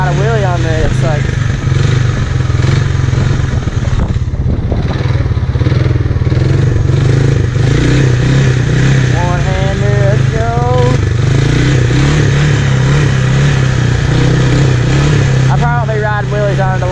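A Honda 300 Fourtrax ATV engine drones steadily and loud during a wheelie ride, its pitch rising and falling with the throttle. Wind buffets the microphone and a rider's voice can be heard over the motor.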